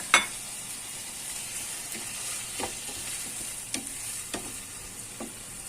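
Peppers, onion, garlic and grated carrot sauté quietly in a pot, with a soft steady sizzle broken by a few sharp clicks and scrapes of stirring.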